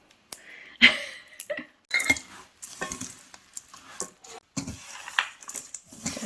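Granola ingredients, including nuts, being stirred together in a bowl, giving intermittent scraping and clinking bursts of utensil against bowl with short pauses between strokes, close and moderately loud.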